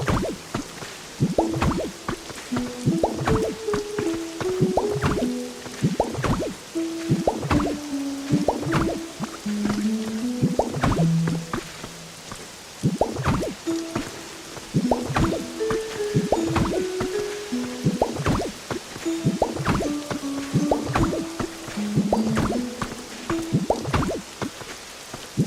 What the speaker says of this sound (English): the sound of the rain in game